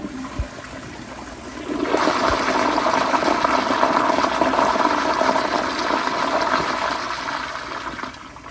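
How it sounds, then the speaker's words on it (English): A 1994 Kohler Wellworth Lite residential toilet flushes with a tall tank, the handle pressed and released: a brief click, then a loud, steady rush of water that swells after about two seconds and holds before easing off near the end. "But here is a flush."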